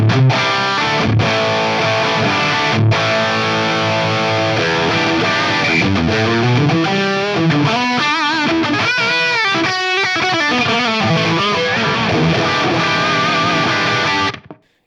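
A distorted electric guitar played through a Fractal AX8 modified amp model with a doubled bright cap, loud driven chords and riffs ringing continuously before stopping abruptly near the end.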